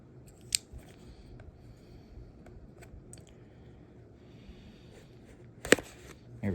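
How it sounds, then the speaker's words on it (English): A few sharp, close snips of scissors cutting packaging tape on a toy box, isolated clicks spread across a quiet background with faint handling. "I forgot to cut the tape down on this end."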